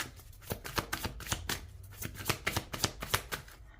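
Tarot cards are shuffled by hand in a quick, close sequence of crisp riffling snaps and slaps with no talking.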